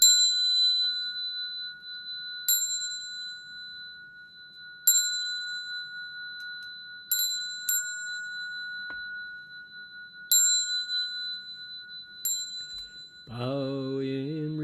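A ritual bell for bowing to the Buddhas rings alone, struck seven times at roughly two-second intervals, each clear ding ringing on, before a low voice enters at the very end.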